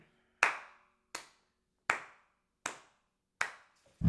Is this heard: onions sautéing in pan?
no